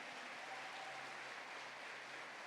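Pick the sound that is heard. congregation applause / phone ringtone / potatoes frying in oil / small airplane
congregation applause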